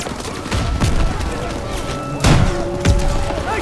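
Heavy gunfire and booming impacts in the Call of Duty WW2 Death Factory level sound loud and continuous, with sharp bursts punching through dense battle noise.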